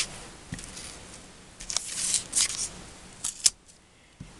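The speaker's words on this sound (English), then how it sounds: "I'm going to fold that up because I'm going to cut that off." Scissors snip through part of a paper card in a few short, crisp cuts spread unevenly across a quiet, close-up stretch.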